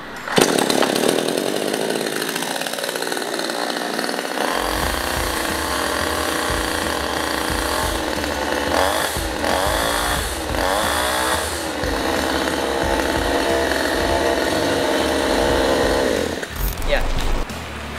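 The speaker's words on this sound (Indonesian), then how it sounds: "Suara kebisingan dari mesin chainsaw kita adalah 116 dB." A Fujiyama GCS7800 gasoline chainsaw engine starts after a short quiet moment and then runs loudly and continuously, with revving swells in the middle and a sharp change at the end.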